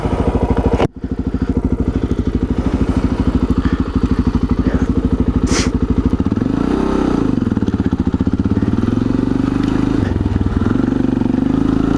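A Honda XR400 motorcycle engine runs steadily after being kick-started, a loud continuous thumping idle with a sharp knock near the start and a brief rev toward the middle, with no one speaking.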